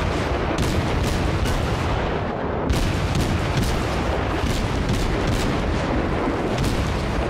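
Warship guns firing aboard the cruiser Kolberg in World of Warships, a dense steady barrage of rapid booming shots in a quick repeating rhythm, loud and continuous with no talk over it.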